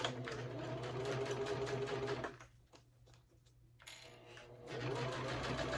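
A sewing machine runs in steady rapid bursts while stitching a wristlet seam with a 3/8 allowance. It pauses in the middle, with faint handling noise, then stitches again, close and even.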